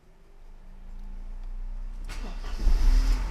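A Mercedes 190E engine is started for the first time: a low hum, then the engine cranks and catches about two seconds in and settles into a louder, rough running rumble close by.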